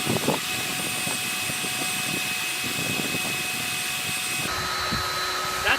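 Cordless leaf blowers, an EGO 56-volt, an ECHO 58-volt and a Kobolt 80-volt, running in a steady, loud, close whine and rushing airflow, with an abrupt change in pitch partway through as the motor speed shifts.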